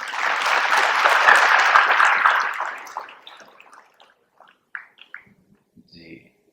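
An audience at a health and happiness talk session claps loudly for a couple of seconds, then the applause thins out into scattered claps and fades to near silence with a few faint stray sounds.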